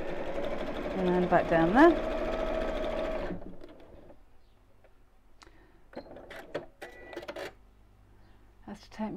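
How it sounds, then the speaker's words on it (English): A sewing machine stitches around the edge of a drawstring PJ bag in a fast whirring burst, then stops; a person talks afterward amid light handling clicks. "closing over the opening as I'm sewing around."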